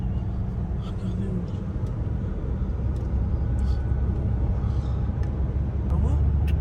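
Heavy trucks on a long road in Albania produce a constant, dense low rumble of engines and tyres at night, steady throughout, with people talking over it.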